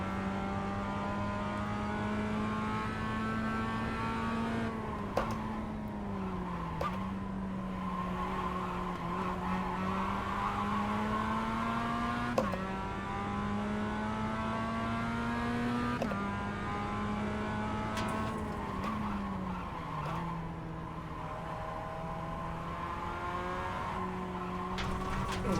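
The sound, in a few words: race car lapping at speed in iRacing video game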